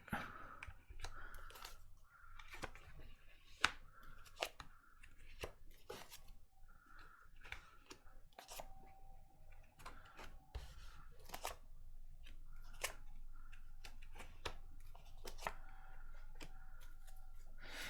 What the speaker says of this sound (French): Alors je pose les cartes.